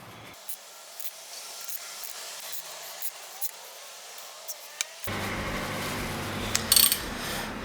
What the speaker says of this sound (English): I'm going to start off with a little blast in here. WD, just to get things rolling.